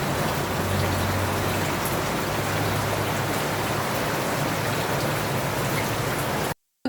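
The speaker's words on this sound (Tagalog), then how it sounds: "tignan nyo naman at napakalakas nga ng ulan dito sa may labas" Heavy rain pours steadily outside in a narrow alley, a dense, loud, even hiss filling the scene without pause before cutting off abruptly at the very end.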